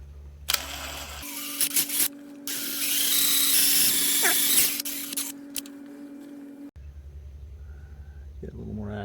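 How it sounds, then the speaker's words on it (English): A Honda CB900C DOHC is being repaired as a stripped cam chain tensioner bolt is drilled out with an electric drill in several bursts, one long whining run in the middle, with brief stops and quiet speech between them. "I think I will end up using the drill on this one."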